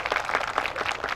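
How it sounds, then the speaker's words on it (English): A crowd at a Hmong veterans' remembrance gathering applauds a state Senate majority leader, with steady, dense clapping that holds at an even level throughout. "So please give a big round of applause to her too."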